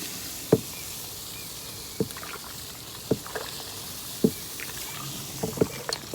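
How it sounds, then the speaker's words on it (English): Mash paddle knocking and stirring through homebrew grain mash in a large 10-gallon mash tun, a series of hollow thumps about once a second with a few quicker knocks near the end, close by over faint background hiss, no talking. "we're gonna mash this sucker. I had a mash paddle."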